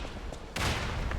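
A cannon fires in the Lies of P video game in a swamp ravine, a sudden loud blast that lands halfway through and is followed by a rumbling tail over quieter game ambience.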